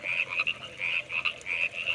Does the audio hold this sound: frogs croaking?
yes